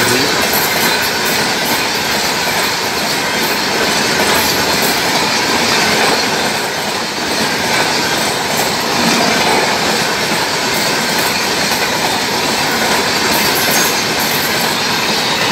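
The New Delhi–Dibrugarh Rajdhani special express passes a small halt station at speed, with a loud, steady roar of wheels and wagons and rhythmic clickety-clack over the rails, continuous and close for the whole stretch.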